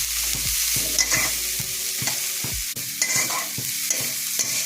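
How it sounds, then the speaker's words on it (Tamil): Dried fish frying in oil in a pan over medium heat, with a steady sizzle broken by repeated scraping and stirring strokes close by, and no talk. "அதனால் கொஞ்சம் எண்ணெயில் வறுத்து எடுத்துக்கலாம்."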